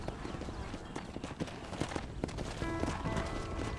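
Horse hooves clip-clopping in steady rhythm in the Red Dead Redemption video game, fairly soft with a faint background bed and a brief whinny-like tone near the end.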